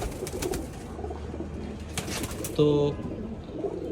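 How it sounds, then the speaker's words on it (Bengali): Pigeons kept in a loft before a racing tournament give one short, clear coo close by, while someone talks nearby. "দেখেন বেশ কিছু কবুতর আছে।"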